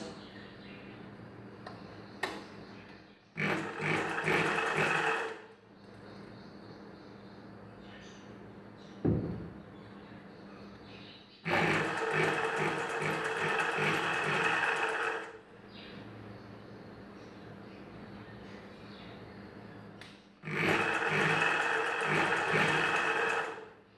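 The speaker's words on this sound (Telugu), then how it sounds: "ఇక్కడి నుండి స్టార్ట్ చేసుకొని కుట్టుకోవాలి" Sewing machine stitching a back-open hook blouse, running in three loud steady bursts of a few seconds each, separated by quieter pauses with small handling clicks and cloth movement.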